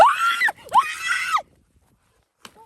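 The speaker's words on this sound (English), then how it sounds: "you need to stop screaming" A person screams loudly in two long, shrill bursts, close and piercing, then falls silent apart from a brief faint sound near the end, inside a home where a daughter is afraid of a spider.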